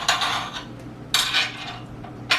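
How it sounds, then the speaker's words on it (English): A knife cuts through cucumbers for homemade pickles, with three short bursts of slicing and scraping against a board spaced about a second apart, close and fairly loud with no talking. "There's nothing wrong with cutting the cucumbers like I'm doing"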